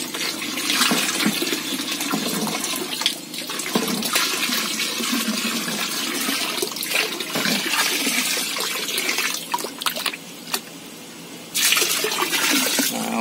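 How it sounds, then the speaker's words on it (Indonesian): Liquid organic fertilizer being poured into a container and stirred, a steady rushing, splashing flow of liquid that runs almost continuously for the whole stretch, close and fairly loud, with brief dips and no talk. "sekalian saja langsung diaduk deh kawan-kawan, sekalian masukkan ya."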